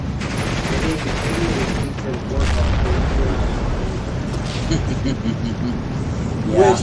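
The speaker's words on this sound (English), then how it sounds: "Okay, the airplane's going after it, but not with bombs. It's like a cannon. Yeah, it's a cannon, 30mm." 30mm cannon fire from an airplane in a Total War Saga: Thrones of Britannia game, with a rapid rattling burst over a busy, rumbling battle soundscape, loud and sustained.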